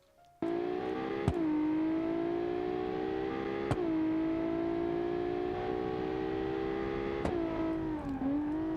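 A six-cylinder car engine with a race exhaust revs in the BeamNG driving game, a loud steady drone that rises and dips with several sharp shifts or throttle blips, alone without talk.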